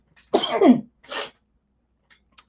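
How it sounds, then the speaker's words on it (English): One person sneezes indoors, a sharp, close burst with a short second gasp right after, then quiet. "Let me sneeze."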